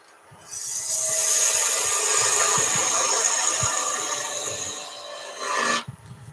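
A spindle gouge cuts spinning wood on a lathe while a wooden baby toy is being made, producing one continuous hissing, scraping shear lasting about five seconds before stopping abruptly.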